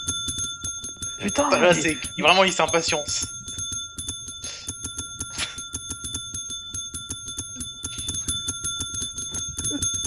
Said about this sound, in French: je sais que c'est une sonnette, mais tu l'as mis où?